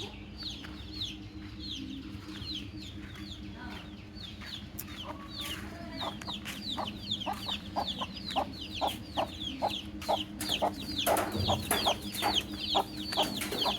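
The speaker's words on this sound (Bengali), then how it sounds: "দেশাল মুরগি বাচ্চা নিয়ে ঘুরছে বাচ্চা পাহারা দিচ্ছে" A desi hen guarding her chicks clucks in a steady run of short, close calls that grow quicker and louder toward the end, over a soft outdoor village background with no talking.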